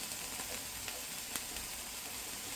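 Capsicum sizzling and frying in a pan with salt, a steady close crackle running throughout with a few brief louder pops.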